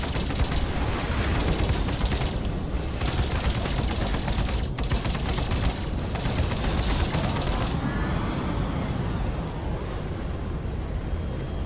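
Rapid-fire ship weapons in Arena Commander shoot in dense continuous bursts, a loud rattling chatter that fills the whole stretch with brief gaps.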